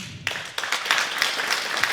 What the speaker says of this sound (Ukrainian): Ці оплески для вас.